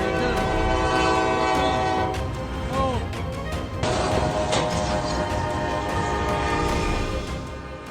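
A train passes close to the tracks with a loud rumbling roar and a sustained horn blaring throughout, steady and near.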